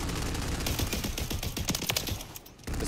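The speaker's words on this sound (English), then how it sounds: "there's no way to counter a 60 round automatic shotgun like this" A 60-round automatic shotgun fires in Call of Duty: Modern Warfare 3 multiplayer. Loud, rapid shots rattle in a continuous stream for over two seconds, then cut off abruptly.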